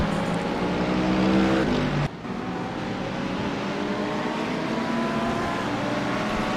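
Race cars in a racing video game at Daytona, engines droning loud and steady as one car pulls past another, with an abrupt drop in pitch partway through and a sustained high-speed roar afterward.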